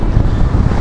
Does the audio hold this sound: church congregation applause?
no